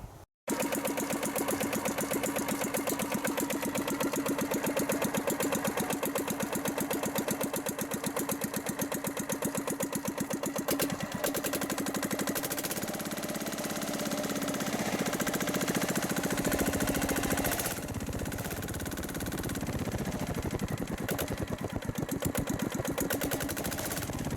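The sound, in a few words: diesel engine running and shaking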